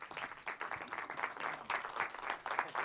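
An audience at a Toastmasters club open house claps in a steady rolling patter, many hands at once, fairly close and even in loudness, with no talking over it.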